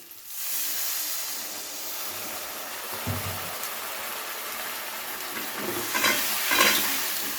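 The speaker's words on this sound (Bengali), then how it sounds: "এবারে দিয়ে দিচ্ছি সামান্য পরিমাণ একটু জল।" A little water poured onto sizzling spice masala in a pan for a katla fish curry sets off a sudden loud steam hiss that holds steady, with faint stirring scrapes near the end, close and without any speech.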